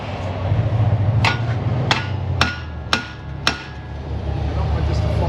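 Five sharp hammer blows ring out at roughly half-second intervals over a low background hum, each with a bright metallic clang.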